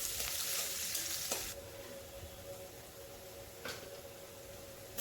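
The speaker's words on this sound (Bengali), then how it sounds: "কড়াইতে তেল দিয়ে দিব। তেল গরম হয়ে পেঁয়াজ কুচি দিয়ে" Chopped onions sizzle loudly in hot oil in a wok, a dense frying hiss that drops to a softer steady sizzle after the first second and a half, with a couple of sharp clicks from stirring.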